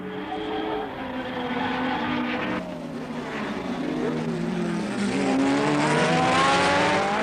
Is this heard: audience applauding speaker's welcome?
no